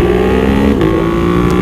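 A motorcycle fitted with a Termignoni race exhaust revs hard and steady at close range, a loud, continuous rasping engine drone with no voices.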